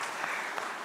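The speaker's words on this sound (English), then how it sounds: "May everybody clap for me." Audience clapping at a corporate launch event in Kenya, a brief burst of steady, dense applause filling the room with no voices over it.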